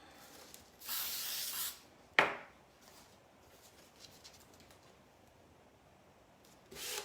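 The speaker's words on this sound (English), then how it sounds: "I think I'm gonna spray this." An aerosol spray can hisses in a steady burst of just under a second onto a bumpy wooden sign, followed by a sharp knock and quiet rustling, then another short spray burst at the end.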